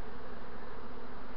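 A honeybee swarm drones in a dense, steady buzz while the queen is being captured, close and continuous without pause.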